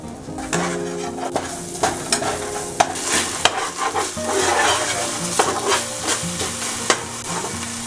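Bay leaf, star anise, nutmeg, green chili and garlic frying in hot oil for dhaba-style bhuna mutton, a steady crackling sizzle with repeated sharp spoon taps and scrapes against the pan.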